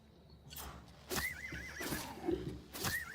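A horse in the Oblivion video game whinnies in several rising, wavering calls, close and clear, with a few hoof clip-clops mixed in.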